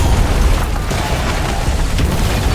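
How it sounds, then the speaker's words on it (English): An oven blows up in a film action scene, giving a loud, dense burst of noise that holds as a roaring, rumbling blast for a couple of seconds. "The violent explosion blasted the man off the balcony and sent him crashing onto a car below."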